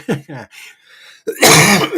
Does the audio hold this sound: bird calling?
no